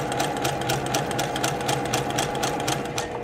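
A sewing machine stitches a fabric seam in a fast, even rhythm of rapid needle strokes, close and steady for the whole stretch with no talking.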